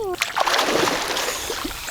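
Someone swimming in open water makes continuous close splashing and sloshing, with a voice briefly audible at the start.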